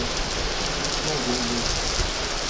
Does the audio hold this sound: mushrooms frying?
no